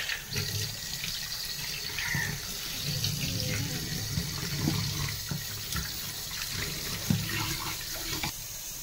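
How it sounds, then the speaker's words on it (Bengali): Hilsa and pabda fish are rinsed under a running kitchen tap, giving a steady close gush of water into a sink with irregular splashes and handling knocks. "চলো মাছটাকে এবার ধুয়ে নিই"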